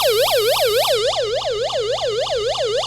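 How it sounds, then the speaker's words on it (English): The SOS alarm on a weather band emergency crank radio wails as a loud, close electronic siren, fast rising and falling yelps repeating about four times a second. "We've got an alarm and a flashing light, which can be nice."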